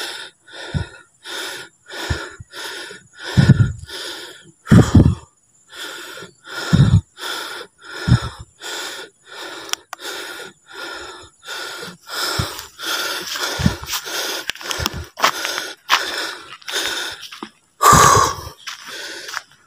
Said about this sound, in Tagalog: Grabe hingal ko doon